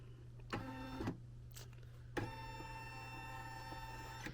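An embroidery machine tracing its stitching area, a faint electric motor whine in a few short runs, then one longer sustained movement over a low steady hum.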